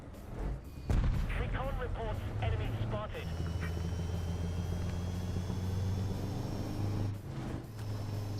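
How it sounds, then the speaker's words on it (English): Booming artillery-like shots and rumbling engine noise from a tank video game, one heavy blast near the start followed by a steady low engine drone, with voices talking over it. "I hear shots."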